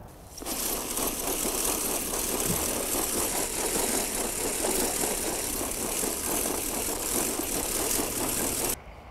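The small engine of a garden granule spreader starts and runs steadily, a close, even, rhythmic chugging drone lasting several seconds before cutting off abruptly, with no speech.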